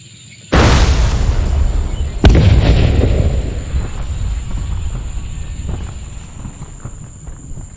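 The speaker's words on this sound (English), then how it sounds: "A tank arrived and fired at the building." Tank firing at a building: a sudden loud blast followed by a second sharp crack about two seconds later, each trailing into a long rumbling decay, no voices.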